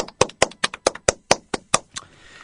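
Hands clap about ten times in a steady, even rhythm, roughly four per second: sharp, close, crisp claps with no other sound, ending in quiet.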